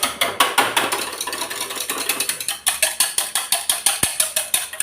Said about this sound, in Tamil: நான் இந்த தயிர் நல்லா அடித்து வச்சுக்கிறேன்.